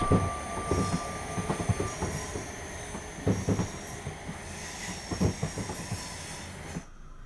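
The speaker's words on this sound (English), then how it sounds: "Oh, the Falmouth train just turned up. Yeah, I can hear it." A Falmouth train on the West Cornwall line in Train Sim World 5 arrives at a platform, with rumbling carriages, rhythmic wheel clatter and high steady squeal tones, loud and without talk, before it abruptly cuts off.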